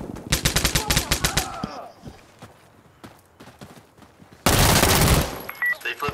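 Bursts of automatic rifle fire in Insurgency Sandstorm, a rapid rattling string of close, loud shots, then quieter scattered pops and a dense, sustained volley near the end.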